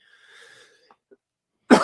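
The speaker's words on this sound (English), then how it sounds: "had a kind of a cough, so excuse my coughing at this point" Near silence with a few faint, thin tones, then one sudden harsh cough right at the end, close and loud.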